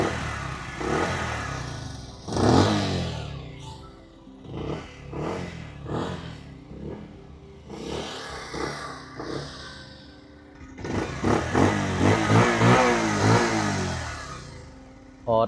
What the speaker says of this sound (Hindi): अब इंजन साउंड सुनो, एग्जॉस्ट नोट सुनो।